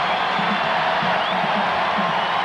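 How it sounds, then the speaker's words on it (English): A basketball arena crowd cheers on the Houston Rockets during game 4 of the 1995 NBA Finals against the Magic, a loud, steady roar of many voices with whoops rising through it. "The crowd urging the Rockets on."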